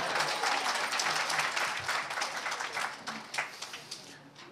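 Audience at an academic political seminar breaks into applause, a dense, fairly distant wash of many hands clapping that gradually thins and fades over a few seconds.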